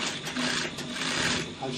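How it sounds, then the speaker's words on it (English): A sewing machine stitches a placket with a dense, whirring mechanical rattle that runs steadily and briefly eases near the end, fairly loud and close. "let's go to the sewing machine"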